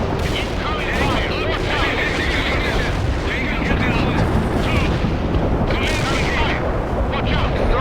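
Incoming artillery shells and explosions pound a battlefield in the World in Conflict strategy game, a dense, loud, continuous barrage of booms and blasts with game voices calling out over the noise.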